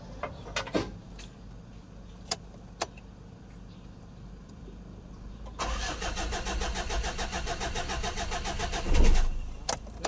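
After a few clicks and rattles, a Mitsubishi Adventure engine, freshly overhauled, cranks with a rapid, rhythmic churning for several seconds, then a brief surge before the cranking continues without catching.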